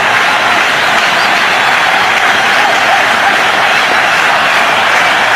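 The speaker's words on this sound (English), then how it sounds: "a big cheer here." Loud, sustained roar of a cricket stadium crowd cheering during an India–Australia one-day match, a dense wash of cheering and clapping holding steady throughout, with no commentary over it.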